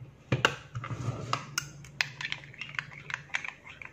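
A spoon stirring a homemade red wine face wash gel in a small bowl, a run of light irregular clinks and scrapes, close and fairly quiet, with no talking.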